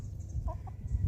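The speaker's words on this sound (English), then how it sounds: "Chickens, what's clucking on?" Chickens cluck in a couple of short, soft bursts near the middle, close by over a low outdoor rumble on a farm stroll.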